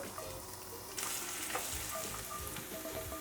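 Minced garlic sizzles in hot oil in a pan, a dense continuous frying hiss with occasional stir clatter, close and steady with no talking.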